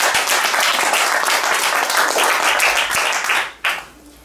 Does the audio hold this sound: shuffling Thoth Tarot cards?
no